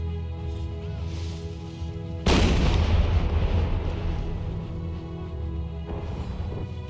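One heavy howitzer shot from Empire 2 booms loudly and rolls off with a long rumbling tail over fainter battlefield ambience, with a softer distant report a few seconds later.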